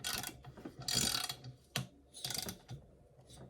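A ratchet wrench snugs head bolts on a Polaris 488 snowmobile engine during a fan rebuild, with several quick close clicking bursts separated by short pauses and no talking.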